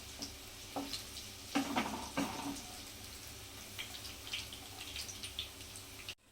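Chimkori vadi (alu vadi) pieces fry in hot oil and get turned over, a faint steady sizzle broken by a few soft clatters and splashes as they are flipped.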